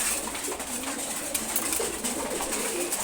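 Female red checker pigeons, housed apart from the males, give soft low coos that murmur faintly through a steady hiss of loft noise.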